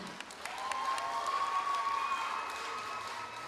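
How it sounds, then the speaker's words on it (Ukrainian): Applause from an audience at a rhythmic gymnastics award ceremony for young gymnasts, a steady wash of clapping that holds evenly for a few seconds at moderate level, with no voices over it. "Ваші оплески"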